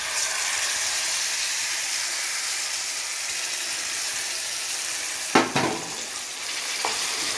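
Tomato chutney sizzles steadily in a hot tempering, with a brief burst of clatter and scraping from stirring partway through before the frying hiss settles again; no one speaks.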